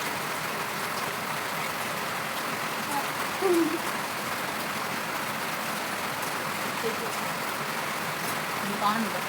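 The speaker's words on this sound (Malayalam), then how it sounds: "സൗണ്ടിന് പ്രശ്നം കാണും, കാരണം ഇവിടെ നല്ല മഴയാണ് കേട്ടോ" Heavy rain falls outside in a dense, even hiss that stays constant throughout, with a brief word spoken over it partway through.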